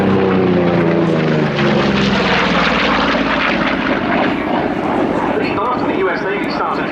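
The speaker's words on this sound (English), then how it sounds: "There goes FG-1D Corsair." An FG-1D Corsair fighter taxiing and flying at an air day, its piston engine and propeller roaring loudly and passing by with a falling pitch, then fading into a rough, continuous drone.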